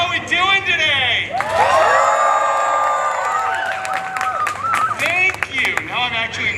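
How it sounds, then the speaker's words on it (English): A live audience at a Deadpool holiday story-time show, a Christmas Carol special, cheers, whoops and shouts loudly and steadily for several seconds, with voices mixed into the crowd roar. "I think we can cheer louder than that, so let's try it now"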